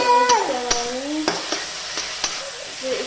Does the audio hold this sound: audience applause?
no